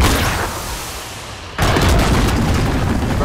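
A cruise missile blast in a multiplayer shooter game, a loud sudden boom cutting in after a dull rumbling lead-in, then a sustained thundering roar of debris and noise.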